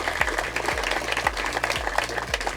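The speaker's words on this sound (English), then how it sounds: "can we please just give them all a round of applause" A crowd applauds officials and leaders at the grand opening and ribbon-cutting of Blandair Park Phase Six, dense sustained clapping at moderate volume with a low rhythmic thump running underneath.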